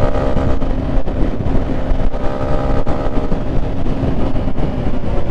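Engine of a car in a video game, a steady, dense drone with a faint hum running loud and continuous throughout, no talk heard.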